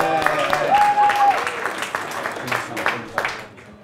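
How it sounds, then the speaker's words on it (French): Audience applause in a studio setting, a moderate burst of clapping with a short tone and faint voices, tapering off by the end. "On applaudit ça quand même."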